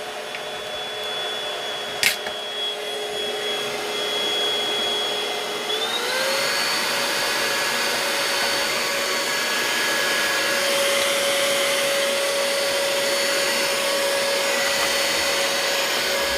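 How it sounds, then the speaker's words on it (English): A vacuum cleaner drones steadily and loudly, its whine rising in pitch partway through and then holding at a higher tone, with a brief knock early on. "The vacuum."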